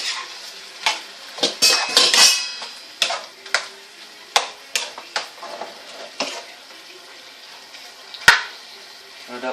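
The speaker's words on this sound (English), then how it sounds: "Give it a quick stir. Make sure it cooks evenly." Chicken stir-fry with cauliflower and carrots stirred in a pan over medium-high heat: sharp metallic clanks and scrapes of a utensil, irregular and close, over a faint background sizzle, with no one talking.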